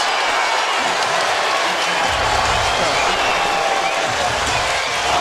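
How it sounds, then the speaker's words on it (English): Boxing crowd at Barclays Center in Brooklyn during a Benavidez versus Garcia fight, a dense roar of cheering and shouting with bursts of applause, heard under a commentator talking. "no calming down this fired up crowd in Barclays"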